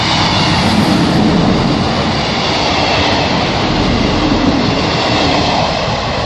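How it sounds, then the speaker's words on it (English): Loud, steady roar of an East Midlands Trains Class 158 diesel unit passing close by, with rumbling wheels and rail noise filling the whole stretch without a break. "Another East Midlands trains service."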